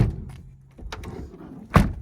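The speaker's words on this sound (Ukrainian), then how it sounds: "От чути, як двері закрились" A 2010 Renault Trafic van door swings and shuts quietly with a solid thunk near the end, preceded by faint rustling and a few light knocks close by.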